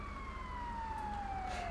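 An ambulance siren in the LSPDFR police game mod wails in a single long falling sweep, loud and steady over low engine rumble.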